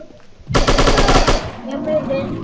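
A sustained rapid burst of automatic gunfire, loud and close, rattles for about a second in the shooting video game Striker, then fades into quieter game ambience.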